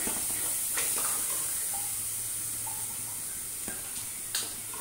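Potato pieces for Aloo Manchurian deep-fry a second time in a Punjabi village kitchen, giving a steady bright hiss and sizzle of hot oil with occasional soft pops and stirring clinks.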